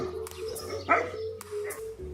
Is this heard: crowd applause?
no